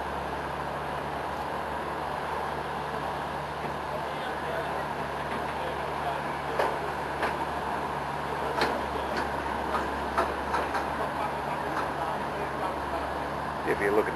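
Amtrak Silver Star number 92, a northbound passenger train, arrives at West Palm Beach with a steady broadband rumble and scattered clanks, held at a constant moderate level throughout.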